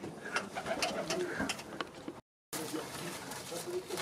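Racing pigeons in a breeder's loft coo in low, soft, repeated calls, close by, with rustling and a voice speaking over them and a brief cut in the middle.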